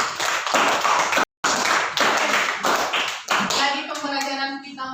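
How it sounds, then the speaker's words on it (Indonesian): A classroom of students claps in a steady burst of applause, loud and close, with a brief cut partway through and a teacher's voice rising near the end. "tepuk tangan untuk teman kita"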